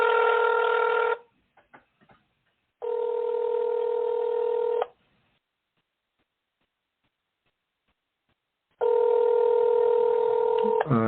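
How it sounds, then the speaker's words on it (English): A regular telephone line plays loud, steady ringback tones in long bursts separated by silent gaps, with a few faint clicks in between. "Call her from my regular phone."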